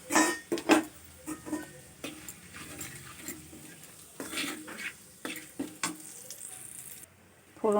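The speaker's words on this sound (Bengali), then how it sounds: "জিরে তেজপাতা শুকনো লঙ্কা গরম তেলের মধ্যে ওই তেলটার মধ্যেই ফোড়ন দিয়ে দিলাম" Cumin, bay leaf and dried chilli sputter in hot oil for a tempering. A soft sizzle sits under repeated clinks and scrapes of a stirring utensil against the pan, with a few sharper clatters.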